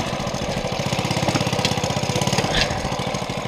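A Mobylette moped fitted with a new engine runs in gear, its small engine chugging in a fast, steady, close and loud putter, alone without voices.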